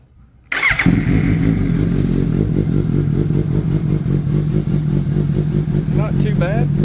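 A 2023 Suzuki GSX-S750 motorcycle fitted with a Dominator exhaust cranks and fires after a short silence, then settles into a loud, steady, rumbling idle close by.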